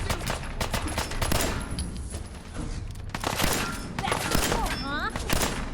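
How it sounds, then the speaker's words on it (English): Fallout 4 firefight with bursts of gunfire, clusters of sharp shots and a distant chatter of fire, with a voice talking over part of it and a brief whistling tone near the end. "Start shooting."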